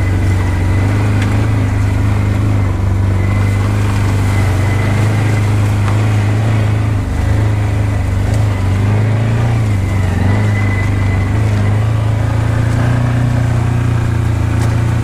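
A side-by-side ATV engine drones loud and steady while crawling along a swampy woodland trail lined with ditches, its low rumble shifting slightly in pitch as the throttle changes, with no talking over it.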